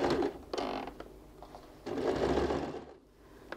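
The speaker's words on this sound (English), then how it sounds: "So now I go and sew a half an inch stitch from beginning to end." A sewing machine stitches a curtain ring hand bag, whirring close up in quick rhythmic bursts that start, pause briefly and resume before slowing to a stop.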